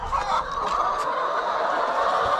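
Free-range chickens clucking steadily in an enclosed coop, several birds overlapping in a continuous busy chatter with no voices.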